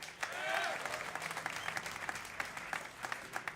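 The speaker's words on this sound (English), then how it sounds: "If anyone is a fan of oGsTOP, give a cheer for your Korean superstar." A crowd at a DreamHack StarCraft tournament breaks into cheering and applause, a steady wash of clapping and voices held for a few seconds.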